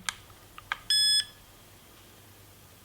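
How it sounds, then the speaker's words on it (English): A single short, clear electronic beep from a Fatshark Dominator V3 FPV goggle DVR as recording starts, in a quiet setting, surrounded by a few faint clicks and taps. "you'll hear a beep and the light will start flashing"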